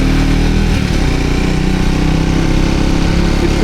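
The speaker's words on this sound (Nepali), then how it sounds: "स्कुटर" A scooter engine runs loud and close on a Kathmandu road, a steady droning rumble with a buzzing high edge that holds without a break.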